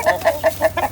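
A hen named Curly Sue clucks in a custom chicken coop, about five evenly spaced clucks, close and clear, with no one talking.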